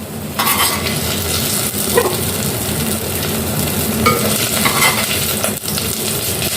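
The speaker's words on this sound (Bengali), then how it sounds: "বাদ বাকিগুলো ভেজে নিচ্ছি" Lemon leaf fritters frying in hot oil in a pan, a steady loud sizzle lasting throughout with a few faint clinks and scrapes of utensils, no talking.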